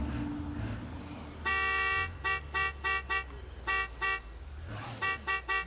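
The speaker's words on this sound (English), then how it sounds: "I'm just honking my horn and letting them know that I'm still their buddy" Car horn honking in State of Decay 2, a series of short loud toots in irregular bursts, several quick blasts in a row over low engine rumble.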